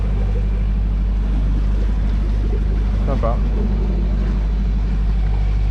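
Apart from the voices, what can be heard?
sailboat's Beta Marine engine running at sea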